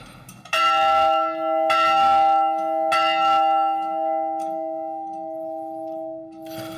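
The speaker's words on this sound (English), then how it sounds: "the ringing of a bell" A large bell is struck three times in quick succession, each stroke ringing out with rich, sustained tones that slowly fade. No voices.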